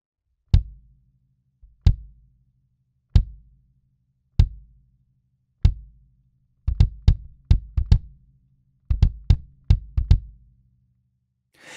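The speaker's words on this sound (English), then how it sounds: "the BD1 on a stand, pointing just into the tone hole in the front head of the kick drum" Unprocessed kick drum miked through the tone hole in the front head with an Imperative Audio MAG7 BD1: single evenly spaced deep thumps at first, then quicker doubled and tripled hits with short boomy decay.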